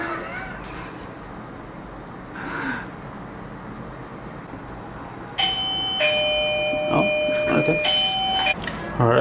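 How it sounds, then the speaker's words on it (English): A doorbell chimes for an arriving food delivery, two clear ding-dong tones ringing out over faint room noise and some background sounds, fairly close and loud. "That's why the bell rang."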